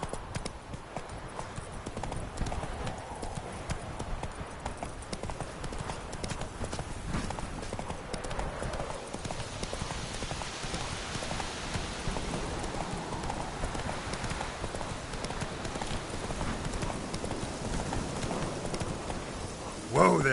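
Hooves of the horse Roach clip-clop at a steady galloping rhythm in the Witcher 3 video game, sounding close and continuous throughout, with a voice talking over the hoofbeats.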